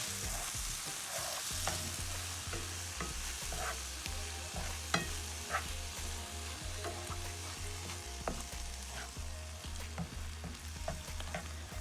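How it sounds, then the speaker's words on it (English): Vegan pasta sauce with plant-based meat sizzles steadily in a frying pan and is stirred, with scraping taps over the constant frying hiss, no talking. "now we're going to add the sauce directly to the pan with the meat"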